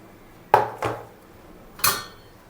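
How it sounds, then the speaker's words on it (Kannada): Spoon knocking against a cooking pot while coconut and coriander are stirred into a curry: three sharp metallic clinks, two close together and one after a pause, close and clear over a quiet background. "ಇದು ಹಾಕೊಂಡ್ಬಿಟ್ಟು ಚೆನ್ನಾಗಿ ಮಿಕ್ಸ್ ಮಾಡ್ಕೊಳ್ಳಿ ಹಿಂಗೆ"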